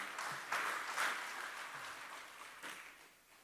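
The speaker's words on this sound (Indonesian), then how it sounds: "Tepuk tangan untuk beliau kembali." Brief audience applause in a hall at a formal Indonesian government ceremony, a moderate wash of clapping with a few louder bursts that fades away toward the end.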